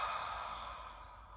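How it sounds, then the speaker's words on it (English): A slow, soft exhale through the mouth during a yoga breathing practice, one long close breath that gradually fades. "slowly breathing out of the mouth."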